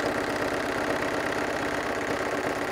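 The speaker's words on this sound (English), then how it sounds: "I'll sew that down here and then back up there." A sewing machine runs steadily while stitching a fabric airplane glovebox caddy, a continuous fast mechanical chatter and hum that holds at even loudness throughout with no talk.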